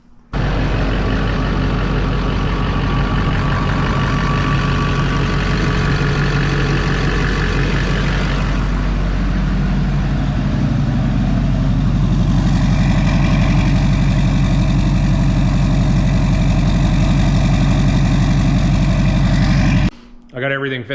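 An LBZ Duramax diesel engine idles close by after a PPE turbo downpipe install, a loud steady low rumble with a rattling diesel clatter that holds for about twenty seconds before cutting off abruptly, with a voice talking over it at times.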